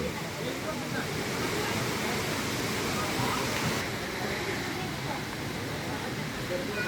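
Savdav waterfall in Kankavli, Sindhudurg, roars steadily and loudly throughout, a dense unbroken rush of falling water close by.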